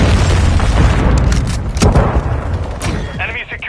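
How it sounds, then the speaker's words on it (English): A cruise missile strike in a video game unleashes a loud, rumbling blast that rolls on with heavy booming and crackling debris, while players talk over it. "Hostile launched a cruise missile"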